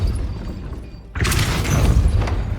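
A Depulso knockback spell from Hogwarts Legacy strikes with a sudden loud impact after a quiet second, followed by a dense rumbling, crackling burst that holds strong to the end.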